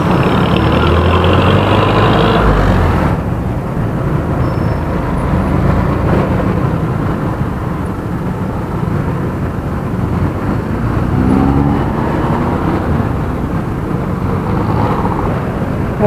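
Road traffic backs up at a city traffic circle at rush hour, a steady loud drone of idling and slowly moving car and truck engines that stays constant throughout, with no voices.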